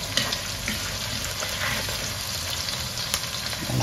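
Peppers and aubergine frying in a pan give a steady close sizzle and crackle with no talking.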